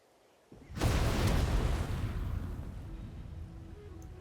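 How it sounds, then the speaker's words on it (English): A loud explosion in the video game Genshin Impact bursts in abruptly after a quiet moment, then leaves a long, dense rumble that slowly fades, with no talking over it. "Oh, is that where we just hear the explosion?"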